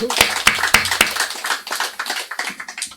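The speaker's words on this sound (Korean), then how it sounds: "박수 한번 더 쳐요." A church congregation at an anniversary thanksgiving service gives a few loud, separate claps in quick succession, then softer scattered clapping with voices murmuring underneath.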